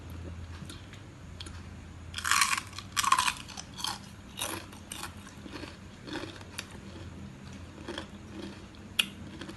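A crunchy fried corned beef snack seasoned with pepper is chewed and bitten in bursts of sharp, dry crackling, loud close-up crunches clustered early, then lighter intermittent crunching.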